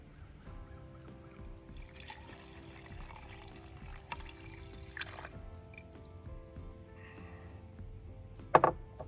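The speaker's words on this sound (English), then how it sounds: "To that we add the water." Water poured onto sourdough levain in a mixing bowl for bread dough, a faint trickling pour for a few seconds in a quiet kitchen, ending with a small clink.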